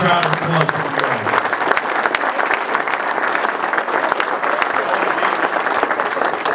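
A crowd at a Jersey City fire department retirement party gives a retiring group a long round of applause. The clapping is dense and loud and lasts throughout, with crowd noise underneath.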